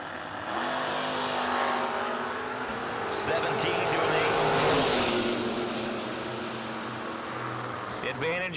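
Drag racing cars, including a Pontiac, launch at a summer drag strip event, a distant roaring engine surge building and fading under a public-address announcer's commentary.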